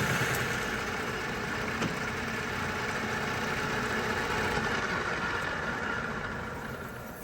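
Steady metal lathe turning cut on a hydraulic press repair part, about 600 RPM, removing 1mm from the diameter per pass; a continuous machine drone with a broadband cutting hiss, close and even throughout.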